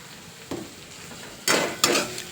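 Two spoonfuls of crushed peanut powder go into a hot pan of matki bhaji (sprouted moth bean curry): a soft scrape, then two loud, brief bursts of sizzling and stirring close by.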